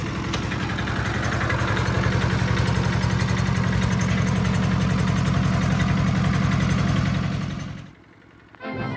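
A surplus Japanese tiller engine runs loud and close with a steady, rapid chugging throb, then drops off sharply near the end.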